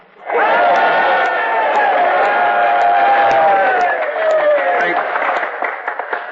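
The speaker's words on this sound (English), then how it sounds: "Well, cheer then." A crowd in an old-time radio drama cheers and shouts for an arriving colonist, loud and continuous with massed voices swelling for several seconds before easing off near the end.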